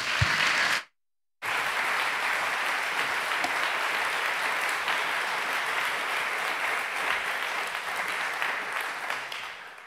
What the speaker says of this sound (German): Bitte empfangen Sie sie mit einem Applaus.